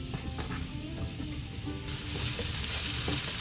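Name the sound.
garlic and onion sautéing in annatto oil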